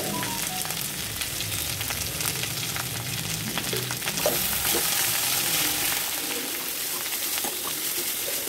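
Jackfruit seed thoran with salt being mixed in a pan: continuous loud sizzle and frying hiss with scraping stirring strokes, steady throughout, no voices.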